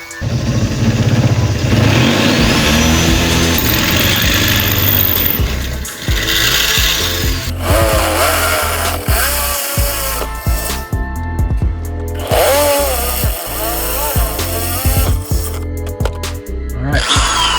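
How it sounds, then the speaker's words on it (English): A power drill with a larger bit whines loudly up close as it bores through car body metal for a strut brace install, pitch shifting under load, with brief pauses between bursts. "we got a little bit bigger of a drill bit on here"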